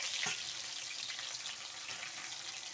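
Mushrooms frying in a pan, a steady, close hiss of oil that holds without a break, with a short splashy burst near the start as more pieces drop in.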